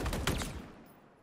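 A quick burst of gunfire from a weapon in the shooter game Halo Infinite, several rapid shots packed into the first half second, then a fading tail with nobody talking.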